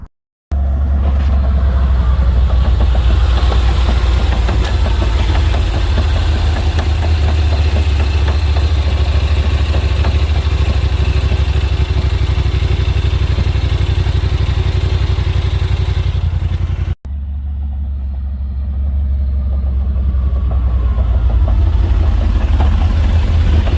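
A 2022 Yamaha Rmax side-by-side with an abnormal engine fault runs loud and close, a steady rough drone with underlying clatter, cutting out briefly near the end before the engine note resumes.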